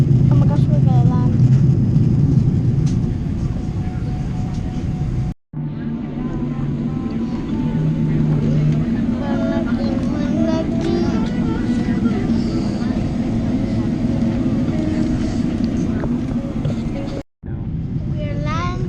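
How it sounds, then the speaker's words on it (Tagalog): Aircraft landing as heard from inside the passenger cabin, with a steady loud engine and airframe roar that cuts out in two brief dropouts, while several people talk and call out excitedly over the noise. "Oh my gosh, we're gonna land."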